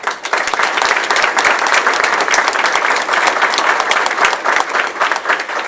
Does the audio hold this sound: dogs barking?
no